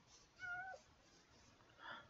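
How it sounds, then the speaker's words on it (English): A cat in the video game Minecraft gives a short, faint meow, with a softer second cry a moment later, against quiet background noise. "Is that a kitty cat?"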